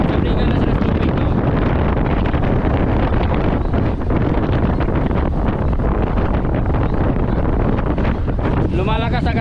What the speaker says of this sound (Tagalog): Lumalakas na kasi yung hangin mga kaspagatak